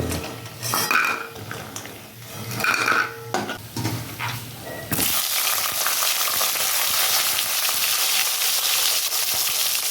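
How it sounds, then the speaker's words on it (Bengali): Bori lentil dumplings fry in hot oil in a pan for shukto, starting with stirring and utensil clatter. A steady, close sizzle then takes over and holds to the end. "বড়িটা ভাজা"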